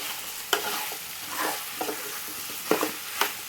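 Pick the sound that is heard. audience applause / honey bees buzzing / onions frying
onions frying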